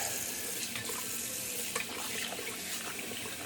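Tap water runs steadily into a sink for a cold rinse after wet shaving, a continuous close hiss and splash with no talk.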